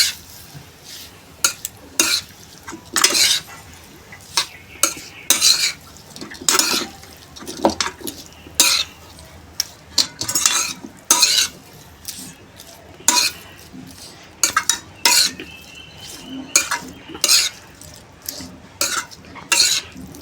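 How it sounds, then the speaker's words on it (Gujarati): A spoon scrapes and knocks in a pan as potatoes are stirred into spiced oil for masala dosa filling, coming in short, irregular bursts of clatter with quieter gaps between them. "એટલા બટેકા આપણે આમાં નાખી અને સરસ રીતે હલાવી દઈએ છીએ"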